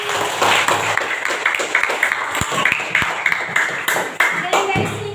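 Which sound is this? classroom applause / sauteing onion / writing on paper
classroom applause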